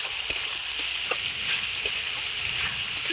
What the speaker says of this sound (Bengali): এই আলুটাও মশলার সঙ্গে খুব সুন্দর করে কষিয়ে নেব।